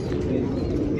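Old desi pigeons coo softly in a loft on Nashik Road, Maharashtra, giving a low, continuous murmur with steady background noise.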